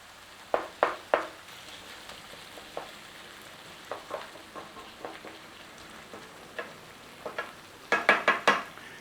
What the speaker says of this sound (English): Just stir it through.